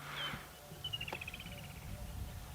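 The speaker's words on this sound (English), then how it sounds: "There's an African cuckoo calling." An African cuckoo calls once in the distance at dusk on a wildlife drive, a faint descending whistled phrase over a low vehicle rumble.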